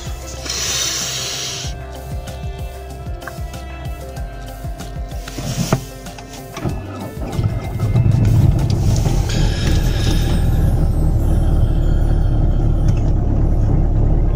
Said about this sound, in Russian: Все, машина завелась.